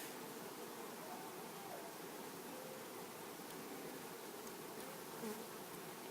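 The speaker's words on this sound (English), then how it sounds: "Bees are slightly coming out." Steady, dense buzzing of many bees around a hive close by, a continuous droning hum with no pauses.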